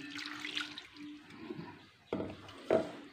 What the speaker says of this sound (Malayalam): അതിലേക്ക് വെള്ളം ഒഴിച്ചിട്ട് ജസ്റ്റ് ഒന്ന് ചുറ്റിച്ചിട്ട് അതിലോട്ട് തന്നെ ഒഴിക്കാം നമുക്ക്.